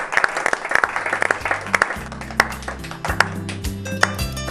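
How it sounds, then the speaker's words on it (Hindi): Scattered applause from a gathering celebrating an engagement, a dense patter of claps mixed with ringing musical tones and bass notes throughout. "तालियां।"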